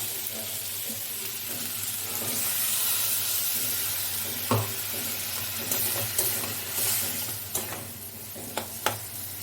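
A spice paste ground in a mixer sizzles in a pan, and a little water is added, bringing steamy hissing and bubbling with occasional spoon knocks against the pan, close and continuous.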